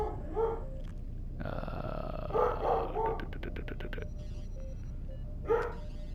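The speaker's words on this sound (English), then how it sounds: "There's my dog." A pet dog in a room gives a few short barks and yips near the start, middle and end, with a sustained tonal hum and a quick run of clicks in between, fairly faint overall.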